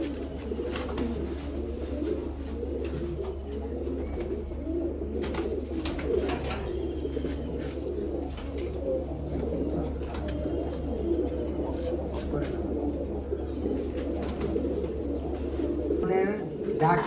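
A high-flying pigeon coos in soft, repeated low calls over a steady low hum. Some background voices and faint bird sounds are mixed in.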